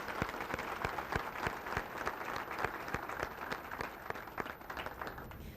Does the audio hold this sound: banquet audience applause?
yes